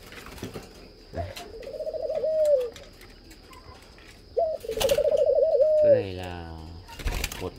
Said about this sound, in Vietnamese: 5 đôi chim ràng ràng mang đi tập ăn.